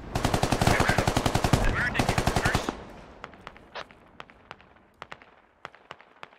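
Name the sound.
gunfire in the video game Squad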